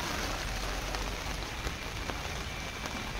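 Steady rain falls hard and close on a surface, a dense, continuous hiss with scattered drop impacts and no voices.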